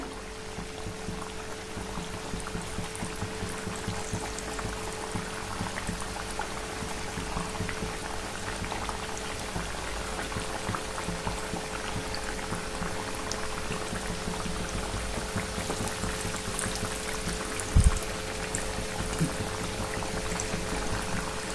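Sweet wheat-flour puris deep-fry in hot oil with a continuous fine bubbling crackle like light rain, steady and moderately quiet throughout, with a single brief knock near the end.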